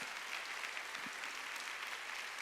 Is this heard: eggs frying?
no